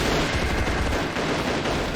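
A volley of gunfire from independence army rifles opening fire together in an ambush, a dense, loud, continuous roar of overlapping shots with no pause.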